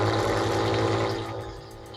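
A water pump sitting on top of a drum in a shed runs loudly, a steady close droning hum with rushing water that eases off slightly toward the end.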